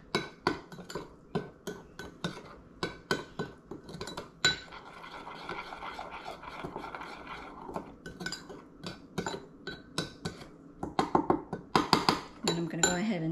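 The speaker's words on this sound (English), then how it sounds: "And now we're gonna stir." A utensil stirs jeow bee, a thick bitter dipping sauce made with bile, in a bowl, producing repeated sharp clinks and scrapes in an uneven rhythm, close and clear, with a quicker flurry near the end.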